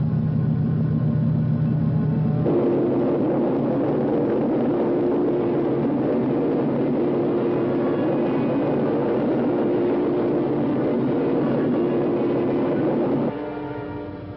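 Spaceship engines in a 1960 low-budget sci-fi film rumble as a steady, loud, dense low roar throughout, with a brief shift in tone near the start and a taper at the end.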